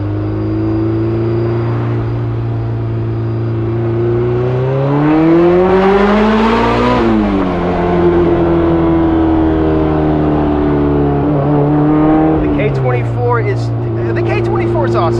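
A built Honda K24 engine in a Honda S2000 revs up through a gear, pitch climbing then dropping at a shift, settling into a steady drone before rising again; loud and close.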